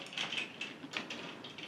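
Small plastic clicks and ratcheting snaps come from the joints of a Transformers Prime RID Optimus Prime toy as its arms are swung into position. The clicks are close, quiet and irregular, with no talking.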